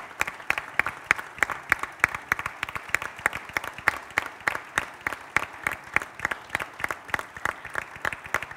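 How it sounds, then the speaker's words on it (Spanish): An audience at a Chamber of Deputies recognition ceremony applauds the honorees with steady, closely spaced claps that hold an even rhythm throughout. "le brindamos un aplauso a todos quienes hoy fueron reconocidos por la Cámara de Diputadas y Diputados"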